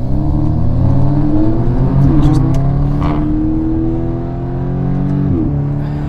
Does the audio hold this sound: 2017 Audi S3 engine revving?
yes